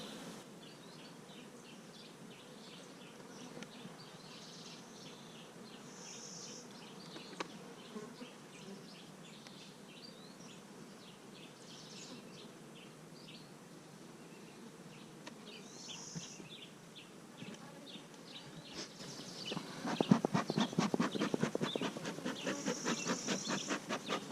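Honeybees hum around an open hive during an inspection, a soft steady drone close by with individual buzzing passes, growing louder and more agitated toward the end; no speech.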